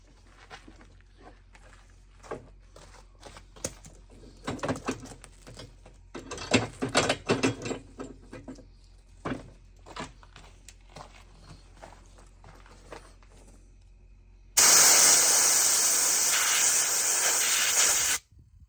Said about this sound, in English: you get this air compressor and you spin her up here